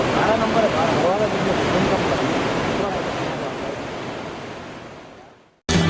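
Water rushes through opened dam gates at Nanded during flooding, a dense, loud roar of churning flow that fades slightly before cutting off near the end; people can be heard talking nearby.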